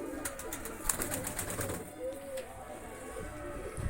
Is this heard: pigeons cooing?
yes